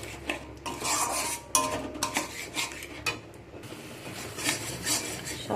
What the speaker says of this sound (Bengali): ভালো করে সব কিছুকে কষিয়ে নেব।